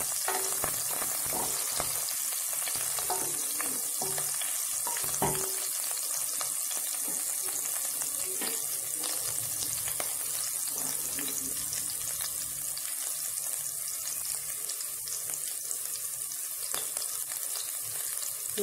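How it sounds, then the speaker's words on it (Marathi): Chopped green chillies sautéing in hot oil, a continuous close sizzle with occasional stirring knocks and faint clatter, with no voices. "आता या तेलात आपण ही चिरलेली मिरची घालणार आहोत। मिरची घालून छान परतणार आहोत।"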